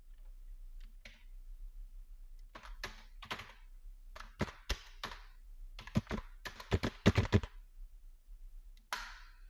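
Typing on a computer keyboard while writing a cash memo in MS Word: soft, irregular key taps in uneven bursts, growing denser toward the end, over a low steady hum.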